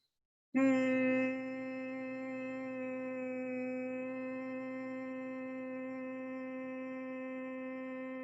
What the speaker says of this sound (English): as we exhale, we make the nasal sound like humming